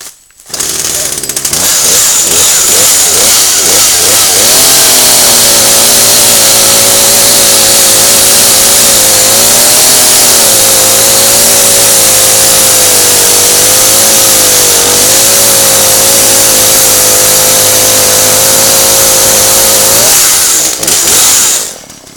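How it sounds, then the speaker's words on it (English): A 33cc Poulan chainsaw with a 14-inch bar pulled to a start, then revving and holding a loud, steady high-pitched roar close up for about fifteen seconds before cutting off. "So we'll give the chainsaw a good start up."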